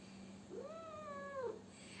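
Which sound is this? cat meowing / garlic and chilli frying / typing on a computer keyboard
cat meowing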